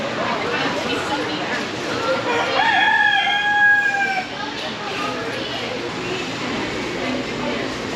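Chickens and roosters in a country fair's small animal barn, with one rooster crow rising clearly mid-clip over a steady busy barn din of clucking and crowd murmur.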